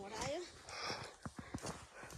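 A horse walking on a snowy trail in Ghandruk Deurali, Nepal, a few distinct hoof clip-clops near the end following talk and other voices earlier.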